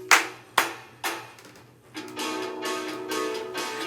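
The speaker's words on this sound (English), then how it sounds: "clap your hands 3 times" Three sharp hand claps in a steady rhythm, close and clear, each fading quickly, followed by a steady hum of background voices and room noise.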